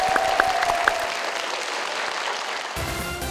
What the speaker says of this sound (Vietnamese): một tràng vỗ tay thật lớn để chúng ta bắt đầu